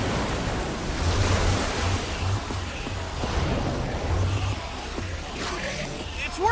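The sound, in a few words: water gushing out in Minecraft Story Mode video game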